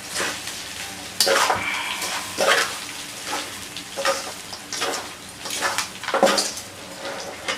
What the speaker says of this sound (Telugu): ఇలా కొంచెం కడుక్కుంటూ తిప్పుకుంటూ కలిపేసుకోండి మొత్తం అనేది మంచిగా మిక్స్ కావాలండి